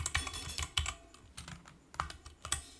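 Rapid, uneven keystrokes on a computer keyboard while code is entered, close and fairly quiet, with clicks in short bursts and no talking.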